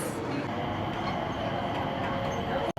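A train rolls into Changi Airport's Jewel in Singapore, with a steady broad rumble and rail noise close by, running evenly throughout before cutting off abruptly at the end.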